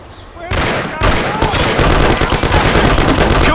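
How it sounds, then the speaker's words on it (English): Dense, loud gunfire from Tommy-gun-style automatic weapons bursts in a shootout in the mobster game Mafia, sustained and overlapping with sharp cracks, with shouting voices mixed in. "Lord, it's shooting here."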